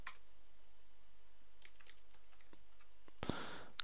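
Someone typing a folder name on a computer keyboard makes a few soft, scattered key clicks, ending in a sharper, louder clack near the end against a quiet room hum.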